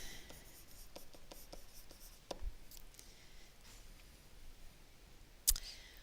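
Chalk or marker writing an equation on a classroom board, a faint scratchy scraping with a few soft taps and one sharp click near the end, quiet room tone throughout.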